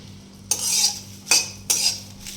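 A spoon scrapes and stirs through pieces of bay leaf roasting in oil in a kadhai, making three distinct metallic strokes over a faint background.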